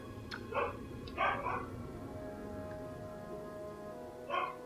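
Dogs bark outside in a few separate bursts of two or three sharp barks, muffled and moderately distant over a steady low hum.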